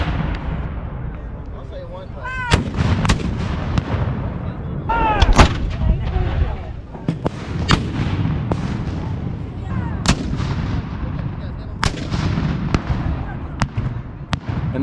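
An artillery bombardment before Pickett's Charge at Gettysburg sounds as a steady series of deep, booming cannon shots over a low rumble. The blasts are irregular, some near and sharp and others distant.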